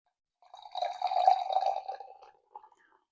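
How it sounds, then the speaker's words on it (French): Cheap sparkling wine, not champagne, is poured gently into a cocktail glass. A short, fizzy splashing pour of about two seconds is followed by a faint trailing trickle, heard alone. "Versez doucement, sinon ça va faire des bulles."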